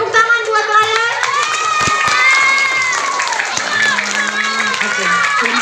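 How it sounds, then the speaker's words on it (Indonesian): Children at an elementary school Ramadan event clap for a classmate, scattered applause mixed with lively young voices chattering and calling out nearby. "Tepuk tangan buat Ryan."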